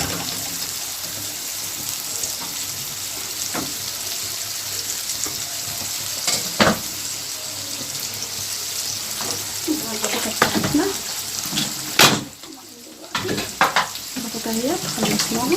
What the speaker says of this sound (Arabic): شوحها بقى حلو كده مع السمنه والزيت